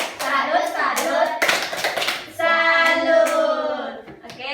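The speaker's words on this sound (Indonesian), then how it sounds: "Kasih tepuk salut untuk Tiara." In an online class, schoolchildren clap in rhythm for a classmate named Tiara while chanting together, their voices loud over the claps.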